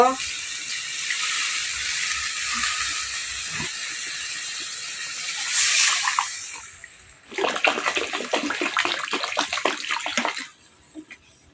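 Water poured into a pan while cooking kofta, heard as a steady rushing pour with a bubbling sizzle, then a louder, choppier stretch of splashing before it stops.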